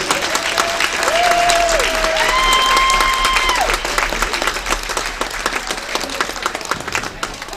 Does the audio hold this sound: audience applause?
yes